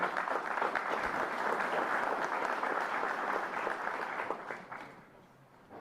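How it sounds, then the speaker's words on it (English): Audience applause at a school dedication ceremony for a new elementary school in Springfield, a dense, steady wash of clapping that holds for about five seconds before thinning out and fading near the end. "Let's give her a nice round of applause."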